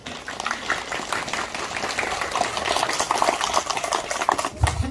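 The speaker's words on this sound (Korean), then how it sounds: "저분들께 박수 한번 주세요." Scattered clapping from a congregation at a Buddhist temple dharma service, honoring the volunteers preparing the meal, a busy crackling patter of many hands that swells slightly toward the end.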